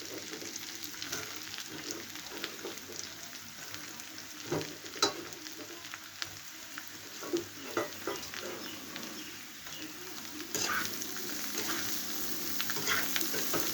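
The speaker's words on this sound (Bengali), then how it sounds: "এখন আলুগুলো আমার সেদ্ধ হচ্ছে, ভাজাও হয়ে গেছে। এখন আমি দিয়ে দেবো বেগুনগুলো।" Potatoes frying in a pan as eggplant is added, a continuous sizzle with scattered stirring scrapes and clinks, growing louder and denser toward the end, no talking.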